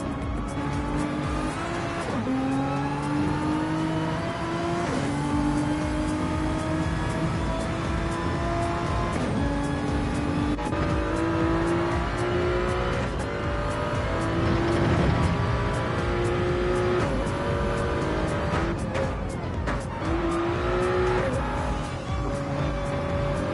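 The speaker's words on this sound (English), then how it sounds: "now he's full throttle at the pit exit" A GT3 race car in a racing video game accelerates hard at pit exit, its engine revving up through repeated gear shifts in rising and falling steps, loud and steady, with tire noise underneath.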